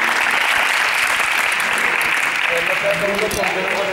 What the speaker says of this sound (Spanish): Podéis aplaudir que lo han hecho bien.